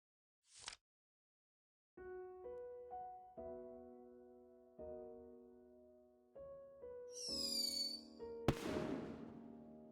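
A single firework whistles upward and bursts with a sharp bang and crackling tail, set over soft sustained musical notes in the video game Firework.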